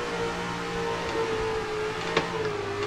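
Engine of an E36 M3 drift car in Assetto Corsa, a steady high-revving drone with pitch slowly sagging and rising as the throttle is modulated through a slide, with a faint short click near the end.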